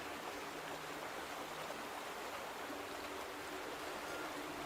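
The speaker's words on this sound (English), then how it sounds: "The sound of the water." Steady broadband rush of flowing water, like a stream, continuous and fairly close, with no voices.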